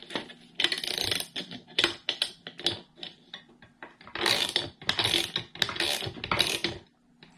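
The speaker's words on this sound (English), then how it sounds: "we're going to tighten these pretty firm, not super duper tight. It's a 10 millimeter socket." A ratchet with a 10 mm socket tightening bike rack bolts, quick clicking strokes in several bursts with short pauses, close and fairly quiet, no talking.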